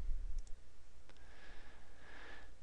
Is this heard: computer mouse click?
yes